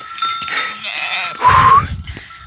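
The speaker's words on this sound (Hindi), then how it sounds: "बकरी बकरी तो सब आ गई घर" Goats bleat loudly and close by as the herd arrives home, with overlapping wavering calls and a brief rustle of hooves and movement beneath.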